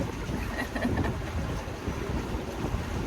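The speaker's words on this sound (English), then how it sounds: "The wind is pretty blustery." Blustery wind buffets a moving boat off the South Carolina Low Country coast, a loud, steady roar of gusts and wind noise over the microphone mixed with rushing water.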